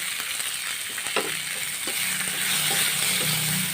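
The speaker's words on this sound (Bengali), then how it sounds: "এবার হালকা ফ্লেমে এটাকে ভালো করে ভাজতে দেবো" Tomatoes frying over a low flame in a pan with onions and salt, a constant sizzle with scattered stirring scrapes and clinks, close and alone without any voices.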